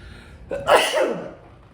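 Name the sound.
sneeze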